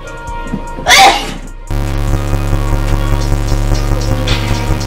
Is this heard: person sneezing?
yes